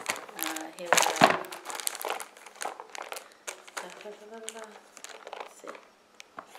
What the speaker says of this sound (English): I will unwrap this so you can see inside.